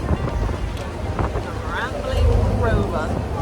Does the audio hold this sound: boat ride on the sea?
yes